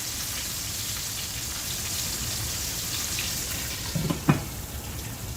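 Cube steak sizzles and crackles steadily in a hot pan, with a couple of brief clinks or pops near the end.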